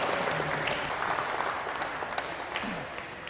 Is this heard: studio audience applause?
yes